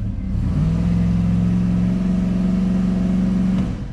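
A truck engine held at a steady high rev in gear with the brakes on during a torque converter stall test, a loud continuous drone close by that holds level for several seconds before easing off.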